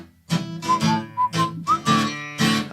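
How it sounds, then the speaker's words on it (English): A person whistles a short, bright tune in clear separate phrases, close and fairly quiet, with no talking. "Just purse your lips and whistle, that's the thing."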